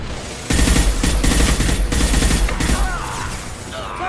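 Loud sustained gunfire in Mass Effect 2 breaks out after a short quiet lead-in, with several rapid bursts crackling close together for a couple of seconds before giving way to lighter combat noise.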